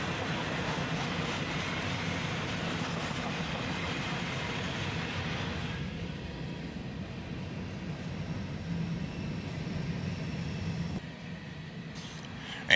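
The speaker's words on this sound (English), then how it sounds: "There's a bunch of air slide covered hopper cars on this train." A freight train hauling air slide covered hopper cars rumbles past close by, the loud roar easing partway through and settling into a steadier, quieter rolling drone.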